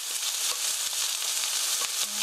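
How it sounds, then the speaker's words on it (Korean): Onions stir-fry in a hot pan, giving a steady, close hiss of sizzling with faint rhythmic taps from the stirring utensil throughout. "stir fry 10 minutes 10분 정도 볶아주세요."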